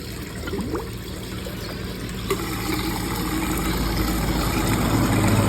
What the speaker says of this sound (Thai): น้ำที่ออกมา ดูดดูดอากาศเข้าไปผสมกัน ให้เกิดเป็นฟองตรงนี้นะครับ